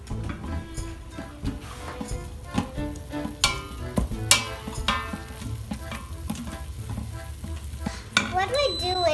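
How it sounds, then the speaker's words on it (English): Sausage sautéing in an Instant Pot on the sauté setting sizzles and crackles close by, while a utensil repeatedly scrapes and knocks against the pot as the meat is broken up and flipped. "Now we're going to put it on saute."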